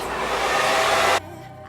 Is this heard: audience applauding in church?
no